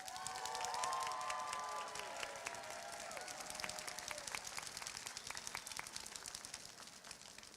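Applause from a commencement audience at a graduation ceremony, a steady wash of many hands clapping that fades gradually, with a few scattered cheers at the start, heard from a distance and fairly faint.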